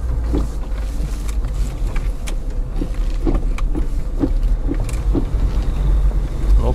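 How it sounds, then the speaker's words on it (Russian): A Lada 4x4 with locked differentials drives on snow, its engine rumbling low and steady as it revs, with occasional knocks and thumps from the car over the whole stretch. "Вот, смотрите, газую."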